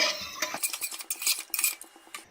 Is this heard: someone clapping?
no